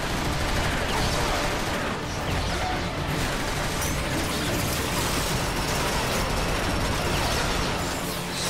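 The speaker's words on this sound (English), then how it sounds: "Give him some cover fire. Now! Suppressing fire!" Gunfire in the video game Transformers: Fall of Cybertron, dense sustained volleys of shots and crashing impacts forming a loud, continuous barrage throughout.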